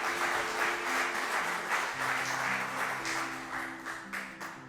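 Church congregation applauding together in a steady wash of clapping that holds for several seconds and gradually tapers, with a sustained tone underneath.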